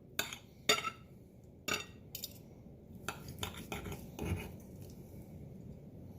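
Knife and fork working through sous vide steak tips cooked in a Ninja Foodi, with a few sharp clinks and scrapes against a plate separated by short pauses and soft sawing rubs, close and fairly quiet.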